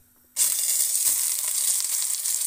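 Rack of lamb hits a hot pan with a sudden loud sizzle that holds steady, a brief clatter near the start, no voices.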